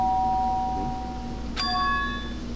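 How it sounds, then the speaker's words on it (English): A doorbell chimes at night in the video game Danganronpa 2, a single bright ding ringing out over a steady background hum and ambient music tone. "The doorbell."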